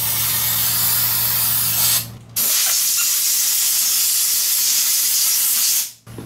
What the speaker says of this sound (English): we're going to clean up the studs with some brake cleaner before we put on our glue